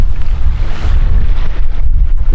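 Strong wind sweeps across open water during a fishing trip by boat, a loud, constant roaring buffet against the microphone with heavy low rumble and no break or talk.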